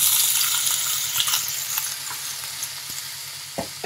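Cubed potatoes fry in hot oil with a steady, close hiss and sizzle, broken by a few sharp crackles and pops near the end, with no voices.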